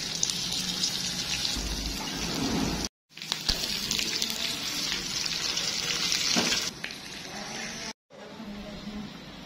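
Continuous sizzling and crackling of a tadka tempering for dal frying in hot oil, loud and steady, broken by two brief silences.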